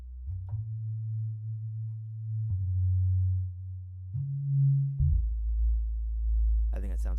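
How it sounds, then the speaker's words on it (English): Filtered synth notes made in Reaktor Blocks, a dark tone: low sustained pitches gliding between steps with portamento, four or five held notes in sequence, clean and alone, with a brief bright noise burst at the end. "Just tweaking with the portamento on the filter a little bit, or key tracking, just to see how that sounds."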